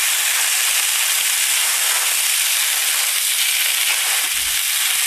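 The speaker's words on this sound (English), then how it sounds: "So now we'll just add our noodles. Stir fry those up." Potato noodles stir-frying in a hot pan give off a loud, steady, unbroken sizzle and hiss, with a faint low bump near the end and no voices.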